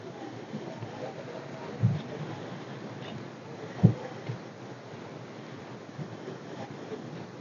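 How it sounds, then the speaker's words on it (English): Strong wind blowing outdoors on a quiet, rainy autumn evening during a deer hunt, a steady broadband rush with two brief low thumps, no voices. "So on these windy days like this, especially when it's quiet because of that rain"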